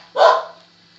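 A single loud, sharp bark from a dog indoors, close to the microphone, cutting off quickly into near silence with a faint steady hum behind it.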